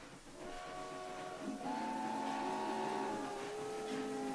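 Steam train whistles in the Transport Fever video game during a steam haulage race, several sustained tonal blasts overlapping and shifting pitch, steady and moderately loud with no talk.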